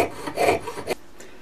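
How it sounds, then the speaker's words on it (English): A jeweler's saw frame, tilted as it works, cuts through metal stock for a ring in a series of quick rasping strokes that stop abruptly partway through, leaving near silence. "This is called a saw frame. It likes to be tilted about like that to cut straight"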